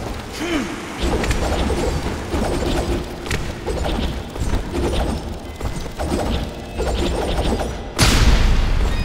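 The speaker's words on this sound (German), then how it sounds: "Wo bist du, komische Pflanze, die explodiert hier?" A loud burst of explosions and crashing debris as an exploding plant goes off in Dust: An Elysian Tail, amid busy game sound effects, with a sharp boom near the end.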